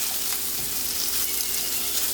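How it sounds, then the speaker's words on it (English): Chunks of eddoes for a Caribbean talkari sizzle briskly in hot oil while being stirred, giving a continuous, close crackling hiss with small scraping clicks. "Just giving that another little stir just to make sure everything is coming into contact with that hot oil"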